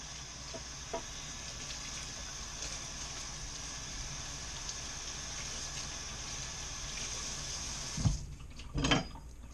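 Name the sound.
tap water washing freshly picked kale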